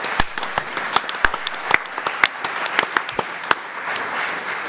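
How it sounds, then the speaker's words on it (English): Conference audience applauding at a Labour Party event, a dense wash of many hands clapping with sharp individual claps standing out, steady and fairly loud throughout with no talking. "thank you for the applause"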